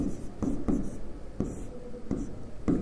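A pen scratches out transformer equations on paper during a Hindi physics lecture, with short bursts of close strokes and taps in an uneven rhythm, separated by brief pauses.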